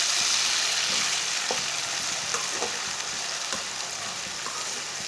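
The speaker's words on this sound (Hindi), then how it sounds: "एक बारीक कटा हुआ टमाटर डाल लेंगे, 3 सब्ज मिर्च डाल लेंगे। इसे मिक्स कर लेते हैं।" Chopped tomato, green chilies and lightly browned onion sizzling and frying in a pan as they are stirred, a strong continuous close hiss with soft intermittent spatula scrapes, no speech.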